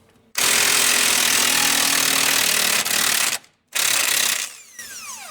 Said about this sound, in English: Let's see if this impact will get it now.